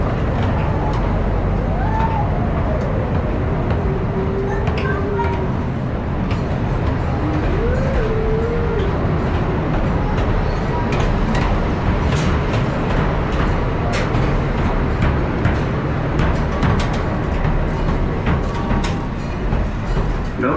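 Small park railroad train rolling into a station, a steady rumbling ride with faint squeaks and clanks, heard from aboard with faint background sounds and a few brief tonal squeals.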